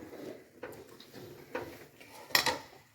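A lid goes onto a home-cooked biryani pot to seal it for dum cooking, making a few faint metallic clinks and taps with the last contact the sharpest.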